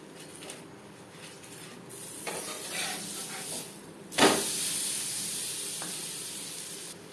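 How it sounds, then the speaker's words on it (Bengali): A double-layer aloo paratha fries on a hot pan, giving a soft continuous hiss and sizzle with a sharper burst of sizzling partway through that then settles into a steady, slightly louder frying hiss. "এই পরোটাও ভেজে নেব"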